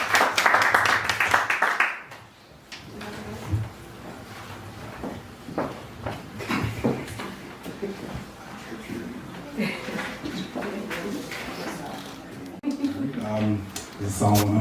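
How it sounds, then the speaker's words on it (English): Guests at a baby girl's naming ceremony give Mr. Akingbe a brief burst of clapping at the start, followed by murmuring voices, shuffling and movement in the room. "Mr. Akingbe. Let's give him a round of applause"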